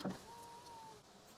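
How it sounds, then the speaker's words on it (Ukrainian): A Citroën Berlingo's electric window motor whirs steadily for about a second, quiet and close, after a short soft knock. "Тут навіть є електросклопідйомники."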